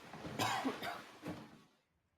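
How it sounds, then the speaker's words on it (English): Three quick, raspy coughs in a row from a slightly ill person, close and moderately loud, then the sound fades into quiet. "Why are you coughing?"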